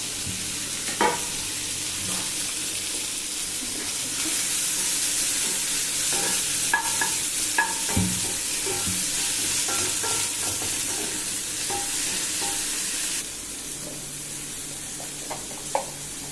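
Tomatoes sautéing in oil with salty dried fish for a Trichy-style karuvadu thokku, a continuous loud sizzle broken by scattered scraping and stirring knocks, with the frying dipping slightly quieter toward the end.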